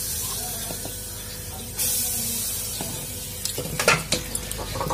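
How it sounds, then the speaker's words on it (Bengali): Turmeric powder hits hot oil in a wok for a duck egg and cauliflower dish, giving a sudden steady sizzle that jumps up midway, followed by a few clattering stirs and scrapes of the pan. "কড়াইতে তেল দিয়েছি, গরম হয়ে গেছে। এখন সেখানে একটু হলুদ দিয়ে দিব, হলুদের গুঁড়া"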